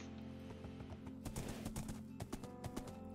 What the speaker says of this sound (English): there's black horses over here